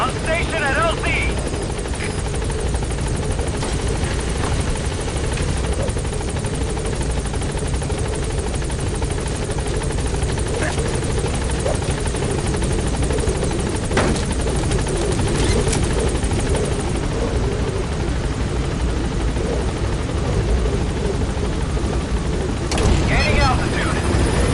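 A helicopter climbs in Metal Gear Solid V, its rotor and turbine thrumming in a steady, dense roar that persists throughout, with a voice speaking faintly over it.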